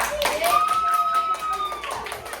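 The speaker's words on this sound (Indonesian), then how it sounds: "Kita berikan dulu tepuk tangan untuk kelompok dua" Classroom of students clapping for a presenting group during a lesson, a short burst of hand claps mixed with a sustained tone and voices, fading out after about two seconds.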